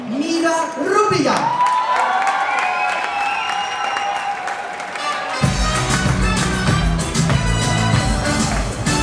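A crowd at the Miss Travestie België 2017 drag pageant final applauds and cheers for contestant number 3, with steady clapping swelling midway and a voice over a sustained musical note early on.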